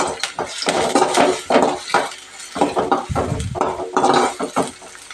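Chicken keema with mint being stirred in a pan, a close, loud run of irregular metal scrapes and clinks from the spoon against the pan, with short pauses between strokes.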